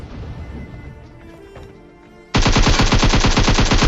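Automatic rifle fire from an M4 in the mobile battle royale game PUBG Mobile bursts in suddenly as a loud, rapid, continuous stream of shots after a quieter stretch of ambient game sound.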